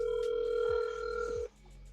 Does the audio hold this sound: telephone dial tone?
yes